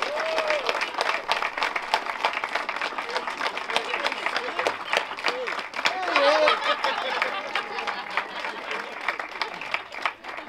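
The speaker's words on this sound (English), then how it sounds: "would you guys just help me give Leon a big round of applause if he's out there somewhere?" A crowd applauds steadily for about ten seconds at an outdoor solar carport dedication and ribbon-cutting ceremony, the dense clapping staying fairly even throughout with a few scattered voices mixed in.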